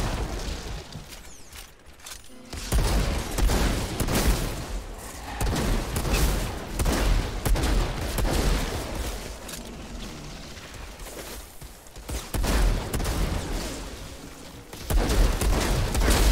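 A gun fires repeatedly in the video game Outriders, with loud, punchy bursts and clanking reload-like mechanisms, broken by short lulls before firing picks up again.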